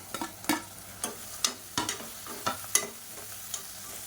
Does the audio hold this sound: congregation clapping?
no